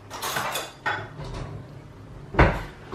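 Metal cutlery clinks and rattles as a tablespoon is picked out from among other utensils, a few close, bright clatters with a sharper knock near the end.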